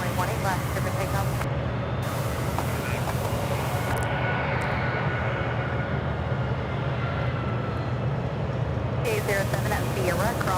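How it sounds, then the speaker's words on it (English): Boeing 777 jet of American flight 2953 on its takeoff roll at Charlotte Douglas airport, a loud continuous engine roar that swells and holds over the whole stretch, with a voice talking over it. "will be our first 777 departure of the day"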